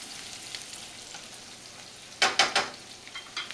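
Meat browning in a pan for stuffed cabbage, seasoned with salt, black pepper and cayenne, gives a steady soft sizzle, broken near the end by a few sharper scraping stirs, with no voices.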